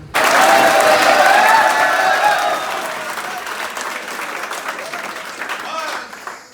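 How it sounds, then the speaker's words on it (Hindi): An audience bursts into loud, dense hand clapping that swells at once, holds strongly for a few seconds, then thins and fades to scattered claps. "इनको पता नहीं कितनी तालियां बजानी है"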